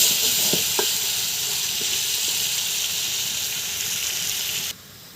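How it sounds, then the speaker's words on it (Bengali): Boal fish pieces frying in a pan, a loud continuous hissing sizzle with a few light knocks from stirring, ending with a sudden drop in volume. "মাছগুলো ভালোভাবে কষিয়ে নিতেছি"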